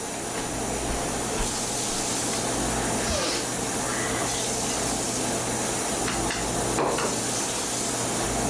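Food sautéing in a pan on a home stove, a steady loud sizzle and hiss running throughout with faint stirring scrapes and no pauses.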